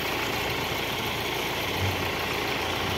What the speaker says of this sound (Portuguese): aqui a gente escuta aquela barulheira do alternador